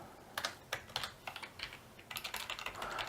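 Close, quiet clatter of a computer keyboard as a sketch name is typed, a short uneven run of keystrokes with brief pauses, no talking.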